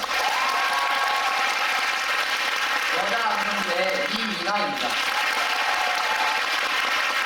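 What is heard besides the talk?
audience applause at musical curtain call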